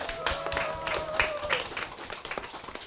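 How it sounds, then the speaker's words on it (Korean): An audience claps at a school science event held at a middle school, with a fairly quiet, uneven patter of hands mixed with a few voices and some tonal background sound. "박수하고 시작할게요"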